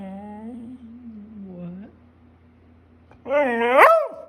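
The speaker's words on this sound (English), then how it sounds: "No barking." A dog gives whiny, yelping vocalizations, a longer drawn-out whimper followed by a louder rising yip near the end, close by and indoors, with a person's voice around it.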